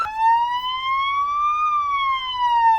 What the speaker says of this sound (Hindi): पाकिस्तान के अवंतीपोरा एयरबेस की अगर बात की जाए, यहां रेड सायरन बज रहे हैं।